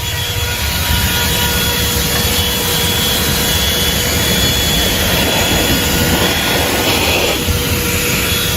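A ThisWorx 12V handheld car vacuum runs steadily on the ground, giving a loud, continuous motor whine and airflow roar with no pauses.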